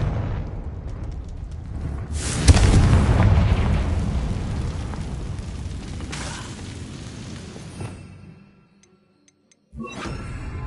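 A Confringo blasting curse detonates with a loud boom in the game Hogwarts Legacy, followed by a long rumbling roar that fades out. After a brief silence the ambience returns.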